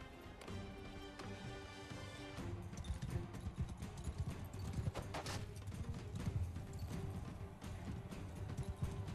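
Horse hooves pound steadily in the Mount and Blade Bannerlord video game, a continuous galloping clatter under battle noise with no talk.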